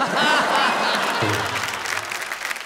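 Loud applause from an audience at a comedy poetry show, dense clapping at first that thins and fades over a couple of seconds, with faint crowd noise.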